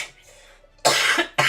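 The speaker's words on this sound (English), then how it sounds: "I'm so sorry for the cough." A person with a sore throat coughs twice at close range: one long harsh burst of coughing, then a second sharp cough beginning at the very end, after a quiet stretch of low background sound.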